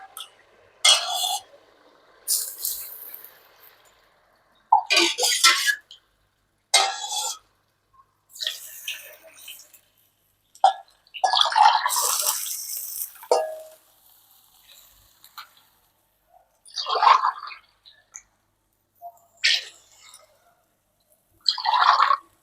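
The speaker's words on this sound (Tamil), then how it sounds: "இப்போ அந்த அரிசிக்கு தகுந்த தண்ணி சேர்த்திக்கலாம்." Water splashes and trickles in short bursts into a pot of broken rice for chicken biryani, with clinks of metal utensils between pours, close and fairly clear with no talk.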